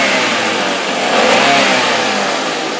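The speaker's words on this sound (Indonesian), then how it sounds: "Digeber pun aman, nggak ada suara yang aneh-aneh gitu." Daihatsu Granmax 1.3 pickup from 2011 with its engine revved hard in a short, loud, steady burst of engine roar, heard alone with no talking.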